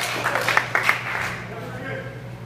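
Concert crowd at the Phoenix Concert Theatre applauding a band, a burst of clapping and cheering that fades out over a couple of seconds.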